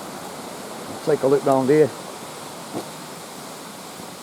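Rushing water from a waterfall makes a steady broadband hiss throughout, with someone speaking briefly over it.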